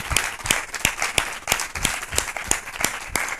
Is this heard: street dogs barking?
no